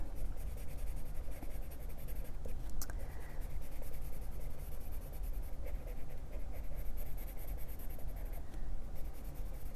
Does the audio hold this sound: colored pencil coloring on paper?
yes